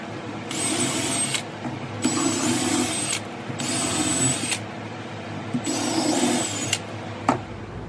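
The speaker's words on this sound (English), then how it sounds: "I drill my pilot hole." A power drill bores pilot holes into a wood blank for a lathe faceplate, whining in four steady bursts of about a second each, separated by brief pauses, close and moderately loud.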